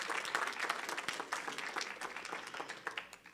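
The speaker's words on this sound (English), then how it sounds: "we'd like to give everybody a big round of applause" Steady applause from a crowd, many hands clapping continuously for a few seconds at a moderate distance.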